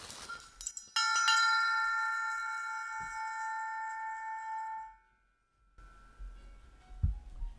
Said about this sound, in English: Here I am trying to shake this bell that's got tissue paper in it from my move.